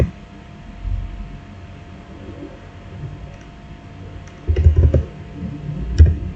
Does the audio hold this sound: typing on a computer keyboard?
yes